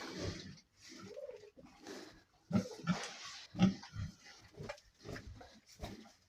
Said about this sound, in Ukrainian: а тут та свинка встала їсти почала